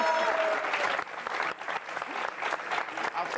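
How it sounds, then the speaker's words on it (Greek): A studio audience at a Greek television entertainment show bursts into steady, dense applause that fills the whole stretch at close range, with a little cheering mixed in. "Ένα χειροκρότημα, παιδιά"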